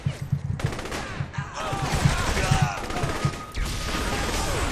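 Rapid gunfire from a heavy gun in Saints Row: The Third, a dense run of close, loud shots with brief breaks and chaotic combat noise, no voices over it.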